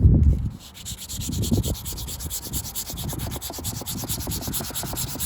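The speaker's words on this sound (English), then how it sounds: "So now you grab some 400 grit sandpaper or even 320 grit." Light scuffing of leather filler on a cracked, faded leather car interior with 400 grit sandpaper, a close, steady rubbing rasp in quick repeated strokes, alone and fairly quiet.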